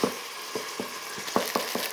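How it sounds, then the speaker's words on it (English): Chili being stirred in an Instant Pot pot, with a spoon scraping and knocking in a steady series of soft strokes, close by and moderately quiet, with no talking. "got that all stirred"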